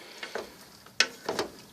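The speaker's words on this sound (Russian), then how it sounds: "Процесс топления пошел, и уже появилось первое сало." Pork fat sizzles as it renders in a pan at home, a soft steady crackle with a few sharper pops and ticks, close and fairly quiet.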